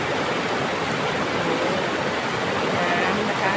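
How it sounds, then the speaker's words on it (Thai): Rushing river rapids in a forest park make a loud, steady roar of churning water, close and continuous with no pauses. "เขาเรียกน้ำแก่ง"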